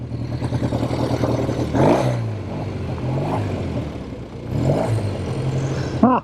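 A 1970 Triumph TR6R motorcycle engine warms up, idling with a burbling note and rising in a few short revs before settling again, close and fairly loud.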